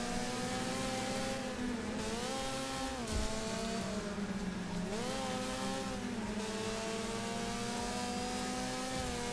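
Several cars race in the demolition derby game Wreckfest, their engines droning loudly and continuously, pitch rising and sagging as they accelerate and ease off, with no one speaking.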